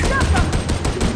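Gunfire from the shooter game Warhammer 40K: Darktide, a fast run of repeated shots in steady bursts with a dense mechanical rattle, loud and close throughout.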